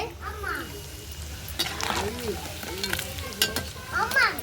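Chicken sizzles and spatters in hot oil in a pot over a wood-fire stove while a chicken pickle is being made, the steady frying hiss running beneath nearby voices.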